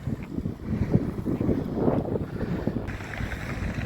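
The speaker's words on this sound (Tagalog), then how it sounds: "Kasi mahangin, kaya malamig." Cold wind gusting across a snowy winter road in southern Finland, a rough, steady rumble of buffeting air close to the microphone that continues without pause.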